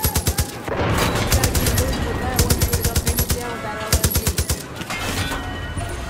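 Sniper and automatic gunfire in the shooter game Far Cry New Dawn, with rapid bursts of shots recurring across the clip amid a constant roar of battle noise. A voice talks underneath.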